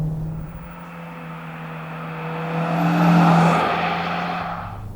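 A Mitsubishi Evo on stock suspension hums steadily through corners on a closed course, its engine drone and tire whir loud and close, swelling as it powers out of a turn and then easing back.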